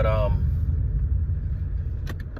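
Inside a car being driven, a steady low engine and road rumble fills the cabin, with a brief voice at the start and a faint jangle of keys or small rattles near the end.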